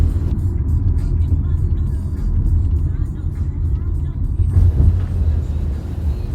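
Riding in an Uber car on the way to Baltimore airport, with a steady low road rumble and engine drone throughout, mixed with faint cabin sounds and some background voices.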